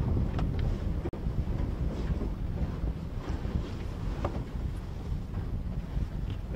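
Strong wind buffets the microphone in heavy, uneven gusts at a wet motor racing circuit, a low roaring rumble with occasional sharper blasts and no speech.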